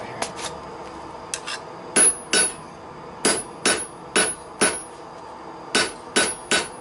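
Hammer forging a steel flint striker: about a dozen close, ringing metal-on-metal blows in irregular short bursts with brief pauses between, with no voices.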